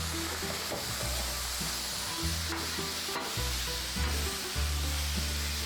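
Carne asada and onions sizzle steadily on a hot griddle, a loud continuous frying hiss with scraping and stirring strokes from a flipper throughout, no voices.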